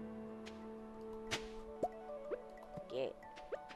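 Crops being watered with a watering can in the farming game Stardew Valley, heard as a few soft, separate splashy drips and plops over steady background game music.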